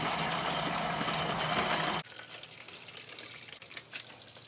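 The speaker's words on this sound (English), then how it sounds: "So we're running water." Water rushing from the drain of an electric water heater during a flush, a loud steady gush that cuts off suddenly partway through and leaves quieter trickling and dripping.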